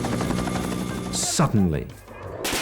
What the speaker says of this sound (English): No! Stop shooting!